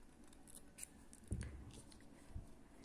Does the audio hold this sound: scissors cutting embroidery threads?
yes